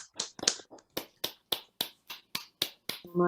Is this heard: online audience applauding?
yes